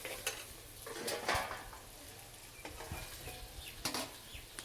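Onions and tomatoes sautéing in a pan for a kizhangan fish curry, with soft sizzling under scattered clinks and scrapes of a spoon stirring against the pan, fairly close and without talk.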